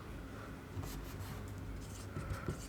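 Chalk or marker strokes on a classroom board during a lesson, soft scratchy bursts with a few taps, moderately close with no talk over them.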